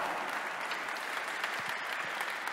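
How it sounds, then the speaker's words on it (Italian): Audience applause at an award ceremony in Bologna, a steady dense wash of clapping from a crowd at moderate distance, sustained evenly with no voices over it. "lo facciamo un altro applauso a Lucrezia e al papà."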